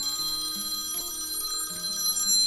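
A telephone rings with a continuous electronic ringtone melody of stepping tones, steady and moderately loud, with no talking.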